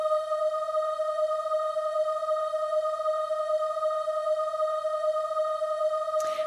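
A steady pure 639 Hz sine tone holds for several seconds with a faint higher harmonic, constant in level and heard alone, cut by a brief click at the end.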